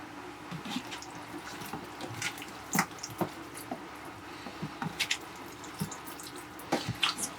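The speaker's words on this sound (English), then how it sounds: "Wash that out with the vinegar and whatnot." Raw chicken wings being rinsed with vinegar in a kitchen sink: running tap water with soft splashes, squishing and intermittent drips, fairly quiet and close, no talking.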